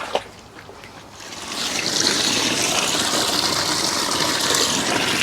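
Water from a garden pond cascade tumbling down on its first test run, a steady close splashing rush that swells after a quiet start and then holds even and continuous.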